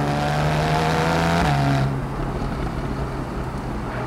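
Porsche 911 Carrera S convertible (991.1) driving with the roof off, its engine drone loud and close, steady at first, then dropping in pitch as it shifts and settling into a rougher hum mixed with wind rush.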